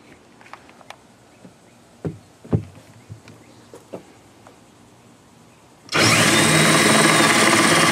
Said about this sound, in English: Maybe I need a bigger drill bit.